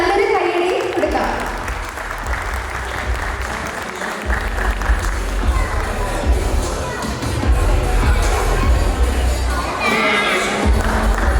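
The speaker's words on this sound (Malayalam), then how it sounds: "നമുക്ക് നല്ലൊരു കൈയടി കൊടുക്കാം." An audience at a Vishu festival stage event claps loudly and continuously for about eleven seconds, a dense, close wash of applause with a few crowd murmurs mixed in.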